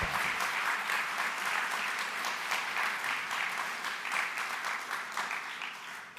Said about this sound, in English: I think we all should give them a big round of applause for all the nonprofits